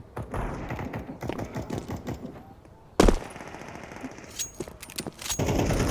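Rapid machine gun bursts in a shooter video game, clattering in quick rhythmic runs with a sharp louder blast midway and continued firing afterward.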